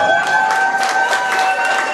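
An audience at a Wisconsin governor candidate's speech applauds with dense, steady clapping and some cheering, loud and close, filling the whole moment without speech.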